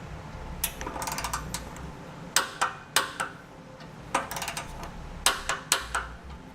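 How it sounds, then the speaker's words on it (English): A torque wrench with a 9/16 socket tightens hardware on a Blue Ox base plate kit for a 2018 Chevrolet Sonic, making sharp ratcheting clicks in quick bursts that are close and crisp against a quiet background. "We'll come back with that 9/16 socket and a torque wrench."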